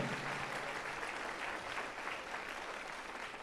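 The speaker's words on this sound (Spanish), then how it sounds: "Dale un fuerte aplauso a nuestro Señor y Salvador Jesucristo." A congregation at a sermon gives sustained applause, a steady wash of many hands clapping that holds at an even level throughout, with no voices standing out.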